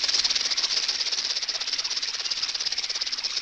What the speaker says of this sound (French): c'est un serpent à sonnette, son venin est mortel